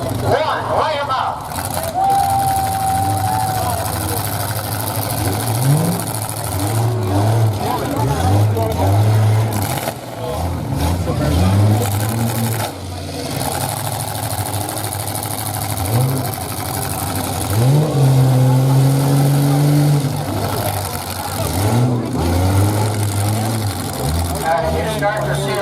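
Stock trucks on a dirt track at Garden City, Minnesota start a race, their engines idling and then revving in repeated rising surges beneath a loud announcer's voice.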